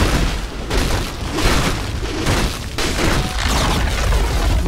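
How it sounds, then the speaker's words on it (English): Dota 2 match audio with a dense run of booming impacts and crashing bursts as a tower is destroyed, loud and continuous over about five seconds with layered game effects. "Radiant's middle tower has fallen."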